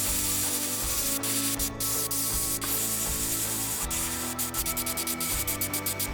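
Airbrush spraying red paint onto a fishing lure, a close, steady hiss of compressed air with short pulses and stops near the end, no talk.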